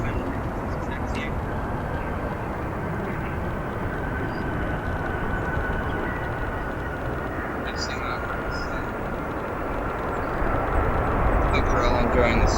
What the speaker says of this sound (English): Here, 787 taxiing.